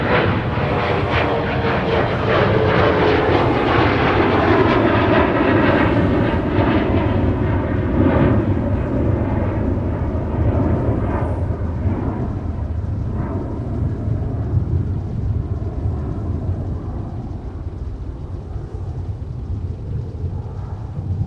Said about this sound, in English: Here's Envoy to Chicago O'Hare with an E175.